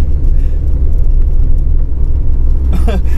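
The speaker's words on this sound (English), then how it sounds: "Third gear going like 5 miles an hour is just chugging" Engine of a 1981 Volkswagen Rabbit Pickup lugging slowly in third gear, a loud, steady low chugging rumble throughout, close and constant.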